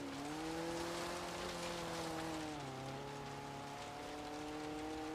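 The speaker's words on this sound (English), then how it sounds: "of course, it is raining" Steady rain hiss in a racing video game plays alongside a droning 140-horsepower car engine whose pitch shifts down midway, loud and continuous throughout.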